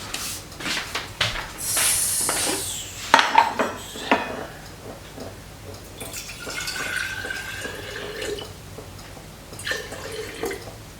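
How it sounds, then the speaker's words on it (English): Water poured into a bowl of flour for sourdough in a home kitchen, a brief splashing trickle followed by clinks and light knocks of bowls and utensils, close and fairly quiet with no talk. "And to that, I'm going to add 325 grams of water."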